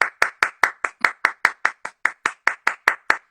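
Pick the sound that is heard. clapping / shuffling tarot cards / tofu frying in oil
clapping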